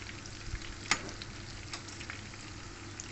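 Tender juicy hotdogs frying in a pan, a quiet steady sizzle and crackle with one sharp pop and occasional small spits, with no voices.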